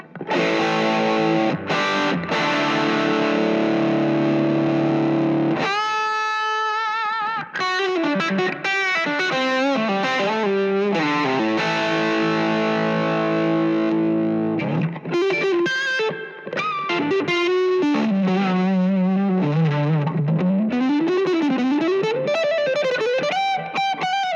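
An electric guitar through a small overdriven valve amp with no pedals, playing sustained distorted chords and riffs, loud and continuous with no talking.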